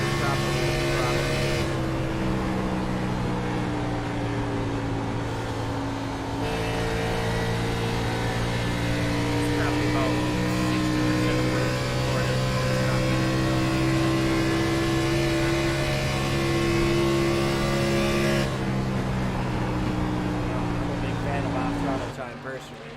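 Race truck engine at Charlotte in a racing video game, a steady loud drone with shifting pitch as the throttle comes in late, under continuous talk.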